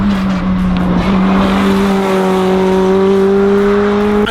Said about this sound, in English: Then it's hard on the brakes and into the back chicane.